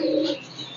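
A single short, soft coo from a pigeon on a rooftop, heard briefly and fairly faintly with no talking.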